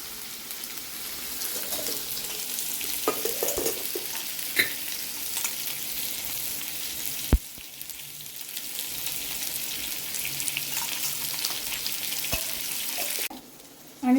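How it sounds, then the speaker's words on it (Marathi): Ground masala sizzles in hot oil for Saraswat-style mutton curry, a steady close frying hiss with occasional stirring scrapes and faint clinks of a spoon against the pan. "आणि थोडं तेल घालून आपण हा आता परततोय."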